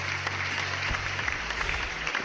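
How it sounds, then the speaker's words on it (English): A sustained burst of applause sound effect plays on a live show, dense steady clapping from a crowd with a low hum underneath and faint voices. "I don't think TK earned that level of applause."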